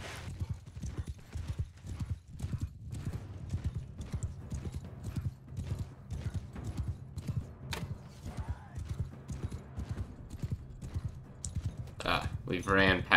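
Horse archers gallop in a Mount & Blade: Bannerlord battle charge, steady overlapping hoofbeats drumming throughout with a few thuds and a brief neigh, while someone talks over the action.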